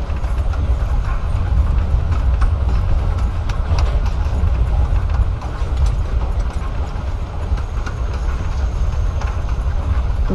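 Inside a moving train in Life is Strange: Before the Storm, a steady, loud low rumble with faint rattling and clicking runs unbroken throughout.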